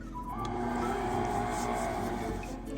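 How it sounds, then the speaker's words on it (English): A stand mixer running on low speed blends sugar and lemon zest for a lemon poppyseed pound cake, giving a steady, close, continuous motor whir with a faint rhythmic churn throughout, no voices. "Again, we're gonna put it on low speed and mix that together."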